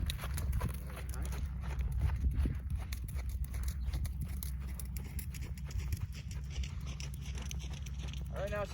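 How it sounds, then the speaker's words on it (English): Horse under a rider trotting on a loose rein: steady rhythmic hoof beats over a continuous low rumble of movement and wind, with a rider talking throughout. "I'm gonna put her back on a loose rein and move up to the trot"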